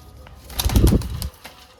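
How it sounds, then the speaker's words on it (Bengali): A female pigeon beats its wings close by in a short burst of flapping, with a faint coo around it. "এই কালাঙ্কা মাদি পায়রা"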